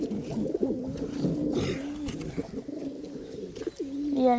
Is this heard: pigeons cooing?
yes